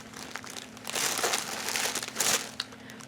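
Satin flat ribbon trim from an antique shop crinkles and rustles as it is handled, a continuous close, fairly loud crumpling with a couple of stronger swells and no talking.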